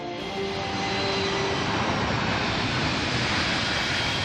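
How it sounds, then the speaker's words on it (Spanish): Low-flying airplane near Rome Fiumicino airport, a loud, steady jet engine roar that holds strong and close throughout with a faint whine on top and no voices. "Los aviones vuelan tan bajo que a veces es imposible oírse uno mismo"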